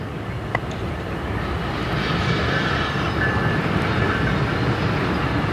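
CSX freight locomotives 3076 and 3148 haul a manifest train through the Fostoria Iron Triangle rail junction. A steady, loud rolling rumble with wheel noise carries throughout, and no one speaks.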